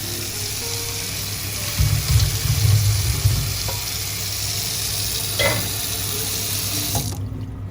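Steady hissing sizzle of hot oil in a pan, continuous and close, with a brief louder burst partway through.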